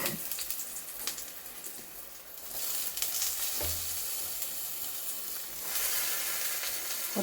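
Eggplant, salted beforehand, fries in hot oil in a pan with a steady close sizzle and hiss, occasional stirring scrapes, and no talking.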